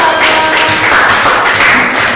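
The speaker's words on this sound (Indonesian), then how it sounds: "tepuk tangan untuk kelompok 3" Classroom applause for student group 3 after its presentation during a teacher-training lesson, a steady patter of many hands clapping at close range that runs evenly for a couple of seconds.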